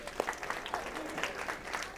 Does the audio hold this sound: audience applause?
yes